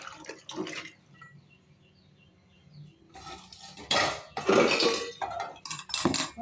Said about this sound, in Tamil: இப்போ குழம்பா சர்விங் பவுலில் எடுத்துக்கிடுவோம்.